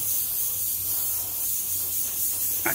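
An airbrush sprays touch-up paint onto a rusty motor, a steady close hiss that holds for a few seconds, with a faint knock right at the end.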